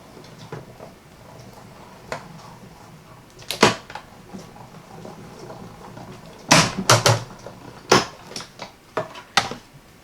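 A die-cutting machine cuts out card stock, giving a series of close clicks, clunks and cranking knocks that come in uneven bursts, with a louder cluster of sharp snaps and pops toward the end, no voices.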